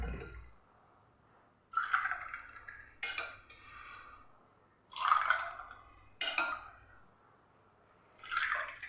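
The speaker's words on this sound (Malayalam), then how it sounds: "ഇനി നമുക്കിതിലേക്ക് ഈ ഒരു ഡ്രിങ്ക് ഒഴിച്ചു കൊടുക്കാം" Raw green mango drink poured over ice cubes in glasses, heard as several separate splashing pours with liquid trickling into the glass, each lasting about a second with short pauses between, close and clear, no voices.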